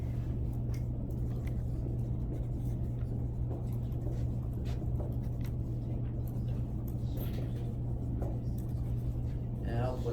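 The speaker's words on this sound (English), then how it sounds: "So I'm going to write that back up here." A lecturer writes on a board during an anatomy and physiology class, producing faint, scattered scratchy strokes half-buried under a constant low room hum and the lecturer's speech.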